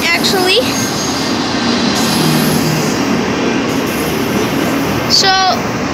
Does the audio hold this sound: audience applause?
no